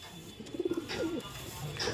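An Andhra Kalshira female pigeon gives a short run of soft, throaty coos close by in a loft, with a faint voice in the background.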